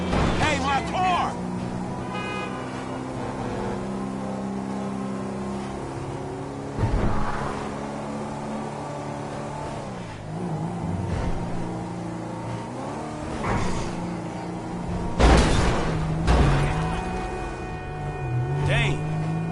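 A car engine in GTA V revs and roars in surges, rising and falling over a steady hum, with a sharp loud burst near the end while someone talks excitedly over it.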